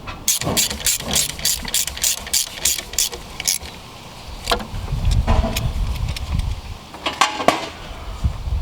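Screws being driven back into the fuel filter housing of a 2019+ Mercedes Sprinter van, with a burst of quick ratcheting clicks near the start, then scattered metallic clinks and handling noise close by.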